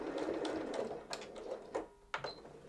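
A sewing machine stitching in reverse on a storage-pocket project, a close whirring motor with rapid needle chatter, a short pause and then a few more quick bursts.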